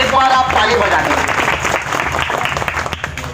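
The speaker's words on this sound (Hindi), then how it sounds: "तो आज उसके लिए एक बार आप ताली बजा दीजिए।" Crowd clapping at a Bahujan Samaj Party political rally, a loud sustained burst of applause from many hands that continues throughout.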